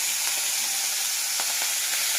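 Prawns coated in salt and turmeric fry in hot oil in a wok, a loud, steady, bright sizzle with faint crackles and no voices.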